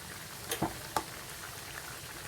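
Green jackfruit sautés in a pan, giving off a steady, even sizzle. A couple of brief clacks from stirring cut through the hiss.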